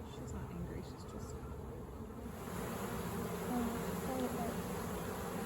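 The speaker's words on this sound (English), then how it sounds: "The bees are super excited to find all of this honey already in here." Honey bee swarm being gently moved into a cathedral hive, a dense low buzzing hum that is faint and steady, swelling slightly louder partway through, with quiet voices underneath.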